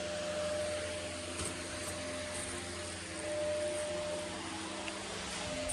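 A steady electric fan whirs in a room, a constant broadband hum with faint tonal lines that holds at an even level for the whole stretch, with no talking.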